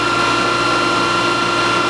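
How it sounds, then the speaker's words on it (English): A metal lathe fitted with a True Trace hydraulic tracer runs with a steady, broadband machine hum and whine, constant and fairly loud throughout with no talking. "then we'll turn the lathe on and see if it'll work"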